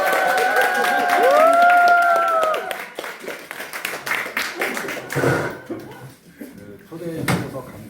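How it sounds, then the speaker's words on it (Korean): An audience applauds to welcome a professor giving a lecture on Chinese food culture. The steady clapping runs under a voice for the first few seconds, then thins into scattered claps. "자, 박수로 모시겠습니다."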